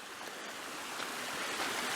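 A mountain stream rushes in a steady, broadband wash, close and continuous, as someone wades through the water near Kletno; no voices are heard.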